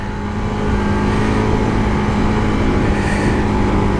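A Bajaj Pulsar RS200 motorcycle engine runs steadily under riding, a loud continuous drone with wind rush that swells slightly after the first half second and holds even to the end.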